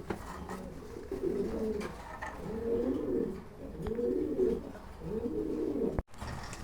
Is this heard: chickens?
no